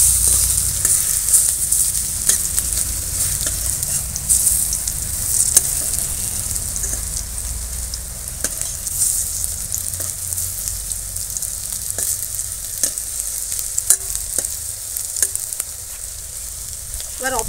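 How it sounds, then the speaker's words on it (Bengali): Prawn fritters fry in hot oil, producing a steady, close, bubbling sizzle with light pops that continues evenly throughout, with no one speaking. "এবার অপর পিঠটাও এরকম একদম লাল লাল করে ভেজে নেব।"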